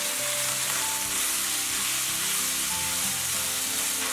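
Diced potatoes tossed into a wok with browned diced meat, garlic, ginger and red chili bean oil give a dense, steady sizzle and crackle, close and continuous, with faint stirring scrapes.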